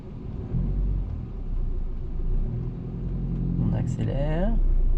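A car's engine hums steadily as the car pulls away in first gear and accelerates, rising slightly in pitch, with a person talking over it near the end.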